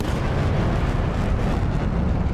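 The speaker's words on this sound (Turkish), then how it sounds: "Concorde'un sesi de şöyle bir şeydi bu arada" A Concorde supersonic jet makes a continuous deep roaring blast, loud and sustained with a heavy low rumble and no pauses.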